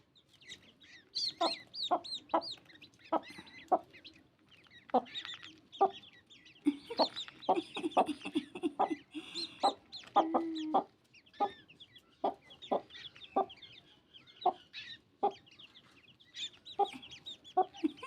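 Small chicken chicks and partridge chicks squabble close by, giving repeated sharp peeps and clucking calls in irregular bursts with brief busy flurries, fairly faint overall.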